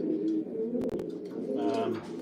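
A racing pigeon being handled and basketed before a race coos softly in a low, throaty murmur, close by and continuous, with faint handling rustles and a brief click partway through.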